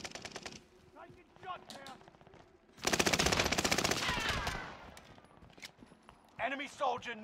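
Machine-gun fire erupts in a Call of Duty game, a loud rapid burst of about two seconds in the middle, with quieter talk before and after.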